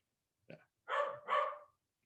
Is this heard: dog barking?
yes